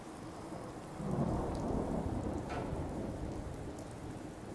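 Thunderstorm with steady heavy rain in the video game Fallout 4, a constant roar of rainfall with a deep rumble of thunder swelling in after the first second and rolling on to the end, no voices.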